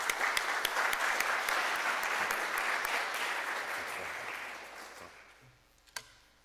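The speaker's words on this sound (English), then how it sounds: "let's give Reverend Wilson a big round of applause" An audience at a Rotary Club of Oakland meeting claps for Reverend Wilson: dense applause that starts full, thins and fades over several seconds, then ends with a few last isolated claps.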